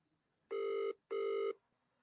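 Telephone ringing with two loud, steady electronic ring bursts separated by a short gap, close and clear with no talk.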